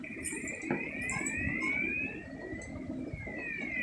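An electronic alarm rings with repeated rising, sweeping tones at moderate volume over a low background hum.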